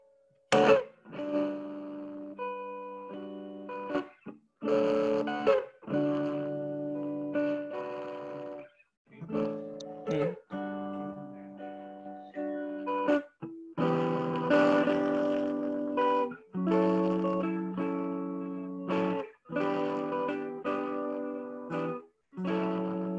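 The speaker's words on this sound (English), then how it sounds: "I'm going to start at the low gain. So that's going to be our minimal distortion." A Ruby distortion pedal at its low-gain setting gives a mostly clean, slightly driven guitar tone, played as a series of sustained chords and notes with short gaps between strums, loud and steady, with no one talking.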